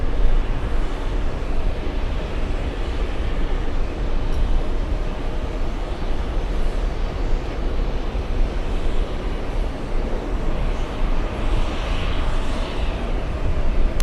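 A jet airliner arriving from Milan on final approach at JFK gives a steady, moderately distant engine roar with broad rumble that holds evenly for the whole stretch, with no one talking.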